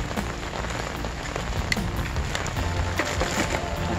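Rain falling on an outdoor fishing spot on a stormy day, a dense, steady patter of drops hitting surfaces, close and continuous with scattered sharper taps.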